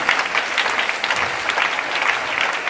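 A church congregation applauds the Lord with steady, dense clapping throughout, loud and continuous with no voices standing out.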